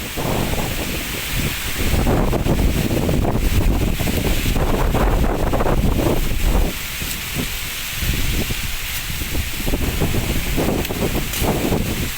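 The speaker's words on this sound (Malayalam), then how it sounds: "ഭയങ്കര കാറ്റ് കേട്ടോ ഭയങ്കര എന്ന് വെച്ചാൽ അതിഭയങ്കര കാറ്റ്" Strong wind roars and buffets the microphone continuously, loud and gusting throughout with no voices, in a forest during honey hunting.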